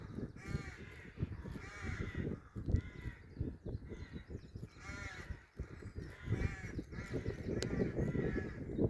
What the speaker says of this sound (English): Figured out why we can hear so many crows